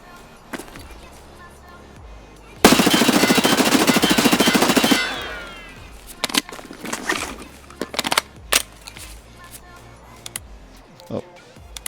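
An MP5 submachine gun in Escape From Tarkov fires one loud, sustained full-auto burst of about two seconds, with a dense rapid rattle, then a faint echoing tail. Sparse clicks and light handling noises follow.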